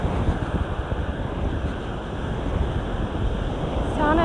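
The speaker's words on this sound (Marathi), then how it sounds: "जे लाट येतात ना खूप जास्ती आणि जोरात येतात" Strong waves surge onto a golden-sand beach in Kerala, heard as a loud, continuous rumbling wash mixed with heavy wind buffeting, with no speech.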